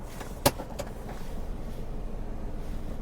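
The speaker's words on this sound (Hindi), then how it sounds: "जैसे हम पहले थोड़ी सी गाड़ी बढ़ा लेते हैं" A car pulls away and picks up speed, its low, steady engine rumble growing slightly louder, with a sharp click near the start.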